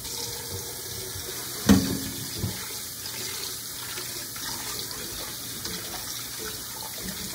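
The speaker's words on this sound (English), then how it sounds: "Fill the pot with water." Tap water runs steadily into a cooking pot at a kitchen sink, a continuous hiss with one brief clunk early on, heard close and alone.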